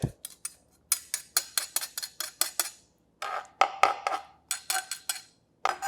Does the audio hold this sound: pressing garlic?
yes